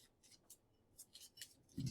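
Soft, quick papery riffles and flicks of cards being shuffled in a math classroom, quiet and close, ending in a louder thump.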